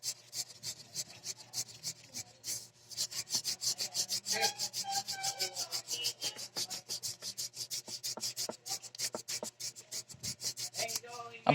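A steady run of quick back-and-forth strokes as fine sandpaper is worked lengthwise along the metal shaft of an orbit fan motor, close up and continuous with no talking.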